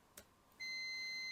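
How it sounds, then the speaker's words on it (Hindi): Multimeter continuity test beep while checking a fuse in a Sony TV power supply: a faint click, then a steady high-pitched electronic tone that starts abruptly and holds on. "बीप साउंड मिल रहा है, मतलब फ्यूज भी सही है"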